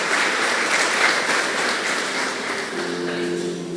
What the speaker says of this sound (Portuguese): Vamos aplaudir ao Senhor por isso, amém?